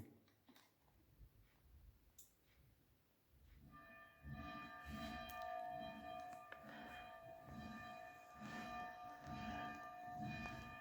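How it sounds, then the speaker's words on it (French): A church bell at the temple in Martigny rings for Sunday 10 o'clock worship. The strokes are loud and sustained with a steady metallic resonance, starting after a few quiet seconds and continuing to the end. "Il est temps de faire sonner la cloche du temple à Martigny"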